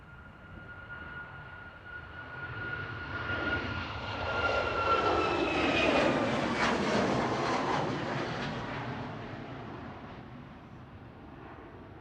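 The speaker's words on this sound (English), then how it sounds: "This is Ryanair back to Marseille, EIIFX with flight 3118, 1-year-old 737 MAX 8200." A one-year-old Ryanair Boeing 737 MAX 8200 jet at Manchester Airport, its engine roar building to a loud peak mid-pass before slowly fading, with a steady high whine running through it.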